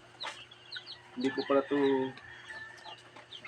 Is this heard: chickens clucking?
yes